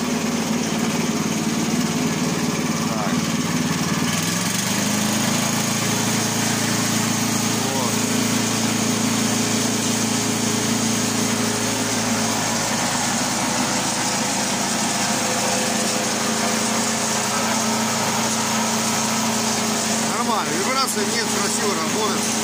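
A homemade wood chipper's small engine runs loud and close, revving up after a few seconds into a steady, higher-pitched drone that holds for the rest of the stretch, with someone talking over it at times.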